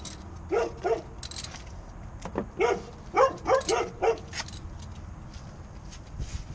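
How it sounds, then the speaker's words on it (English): Several dogs bark in short bursts, a couple of yaps followed by a quick run of barks, fairly close over a quiet background. "the dogs are going to bark like crazy"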